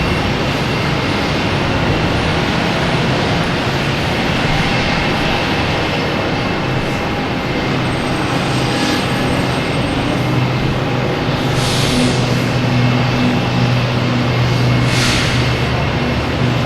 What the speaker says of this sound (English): I have another Cape Air taking off